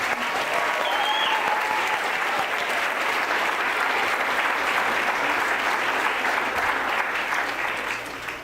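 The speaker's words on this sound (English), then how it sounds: "Join me in giving her a round of applause." Sustained applause from a graduation ceremony audience, many hands clapping steadily at full strength for about eight seconds before easing slightly at the end.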